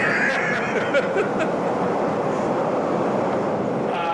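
A train rolling past near a Chicago maker's workshop, a loud continuous rumble and rush of rail noise filling the whole stretch, with faint clicks on top.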